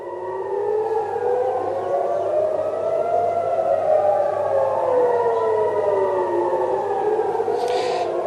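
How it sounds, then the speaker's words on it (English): Air raid sirens wail across Tel Aviv, several overlapping rising and falling tones sounding loud and steady for the whole stretch, with no voices over them. "right now what you're hearing are sirens sounding across Tel Aviv"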